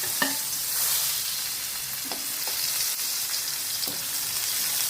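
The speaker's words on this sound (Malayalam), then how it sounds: "ഇതിലോട്ട് ഞാൻ ഒരു അര സവാള മുറിച്ചത് അതും കൂടെ ഇടുകയാണ്" Sliced half onion hits hot oil with curry leaves for chilli pappadam, giving a steady, close sizzle broken by a few light spoon taps.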